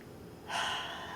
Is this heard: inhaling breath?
yes